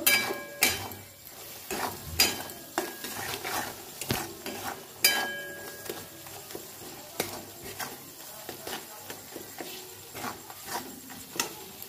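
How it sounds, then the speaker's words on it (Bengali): Spice masala stir-fried in a pan for a vegetarian chickpea dish, heard as repeated spatula knocks and scrapes against the pan over a faint low sizzle, with no voices. "মশলাটা কিছুক্ষণ কষিয়ে নেব।"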